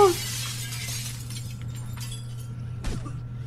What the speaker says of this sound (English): You hear a smashing window